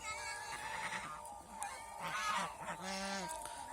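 Geese resting together on a goose farm, giving loud, close honking calls that repeat and overlap, with a harsh nasal tone and some quieter clucking between calls.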